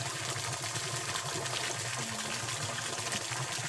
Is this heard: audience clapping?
no